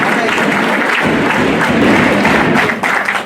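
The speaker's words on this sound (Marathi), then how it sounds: "टाळ्या वाजवायच्या सर्वांनी." An audience at a New English School Rui farewell for the 1992 HSC batch claps loudly and steadily for a few seconds, a dense wash of applause with some faint voices mixed in.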